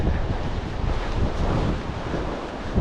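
Strong coastal wind buffets the microphone in a loud, continuous rumbling roar that swells and eases a little, with no voices heard.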